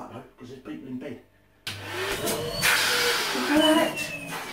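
A Henry vacuum cleaner, just repaired, switches on after a short pause and runs with a steady, loud motor whine and suction roar close by.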